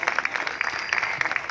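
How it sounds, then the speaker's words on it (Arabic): A theatre audience claps during a comedic stage play, a brief burst of dense, fairly close applause from a crowd that keeps an even, lively patter for the whole moment. "لازم الجمهور يسقف لي الاول"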